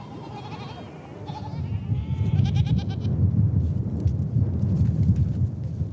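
Several goats bleat in short, wavering cries at a desert spring in the Gobi, Mongolia, over a dense, low rumbling background, the calls fading as the rumble swells.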